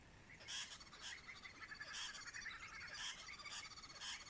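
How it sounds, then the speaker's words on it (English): Small birds chirp faintly in the distance, a loose string of short repeated calls that come in bursts over a quiet outdoor background. "also hear birds chirping"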